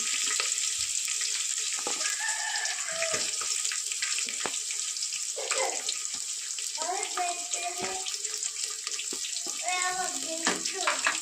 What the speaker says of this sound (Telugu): అవి వేగాక ఆనియన్స్, పచ్చిమిర్చి వేయాలి. ఇప్పుడు ఆనియన్స్ కూడా బాగా వేగాలి.